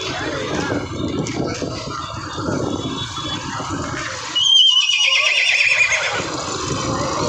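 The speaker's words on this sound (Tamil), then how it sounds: "குதிரை எல்லாமே ஏற்றிட்டு இருக்கிறாங்க பாருங்கள்" A horse whinnies loudly at a crowded live cattle market in Tiruvannamalai, a rising then falling neigh cutting through the steady background bustle of the market grounds.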